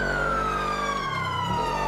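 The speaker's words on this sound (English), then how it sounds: "Don't mind the siren." A police siren wails in the video game GTA V with the LSPDFR mod, a loud, close, continuous tone sliding downward in pitch, with no speech.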